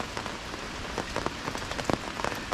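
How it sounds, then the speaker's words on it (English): Rain from a tropical storm patters steadily on a nearby surface, dense and continuous with scattered louder drops, alone with no voices. "So hopefully this rain passes."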